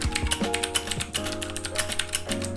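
Rapid, crisp clicking keystrokes from a QWERTY gaming mechanical keyboard with blue switches, continuous and close, while a faint melodic tone plays underneath.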